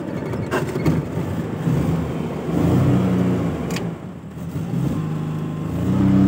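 A Suzuki Mehran car's engine turns over and settles into a steady mid-pitched running hum, heard close from inside the cabin with no talking, its level rising slightly toward the end.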